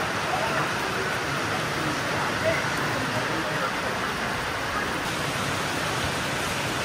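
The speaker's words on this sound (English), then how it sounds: "Started raining really bad." Heavy rain pouring steadily in a broadband hiss with no breaks, fairly close and constant throughout, while someone works beneath a 2019 6.7 truck.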